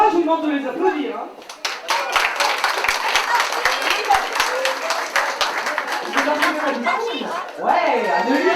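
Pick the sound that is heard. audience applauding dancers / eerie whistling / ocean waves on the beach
audience applauding dancers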